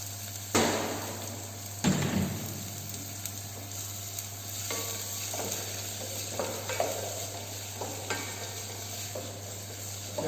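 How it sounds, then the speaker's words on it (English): Chopped onion sautés in hot oil in a cardamom-spiced pan for a basic brown gravy, giving a steady close sizzle with occasional clanks and scrapes of a utensil and no talking. "You have to saute onion"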